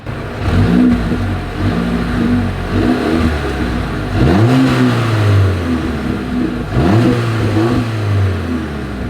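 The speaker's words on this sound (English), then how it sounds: "As always, here is that exhaust clip." A 2024 Mercedes-Benz GLB 250 engine revs up three times through its exhaust, each throttle blip rising sharply then settling back to a rumbling idle, loud and close.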